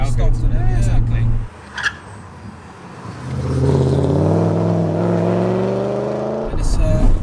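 Supercharged 4.4-litre V8 E30 Touring of about 500 bhp pulls under light throttle, its engine note rising steadily in pitch as it accelerates after a brief quiet lull, with people talking in the cabin.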